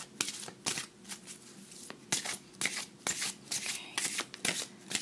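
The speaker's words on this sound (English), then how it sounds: "One more card, Spirit, from Doreen Virtue, Daily Guidance" A deck of Doreen Virtue Daily Guidance oracle cards being shuffled by hand, a run of quick riffling bursts with short pauses between them, close and crisp in a quiet room.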